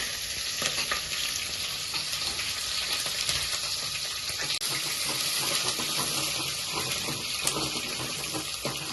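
Onion and green chillies fry in a pan for a Telangana-style dal, giving a dense, close, continuous sizzle with faint stirring clicks and no voices.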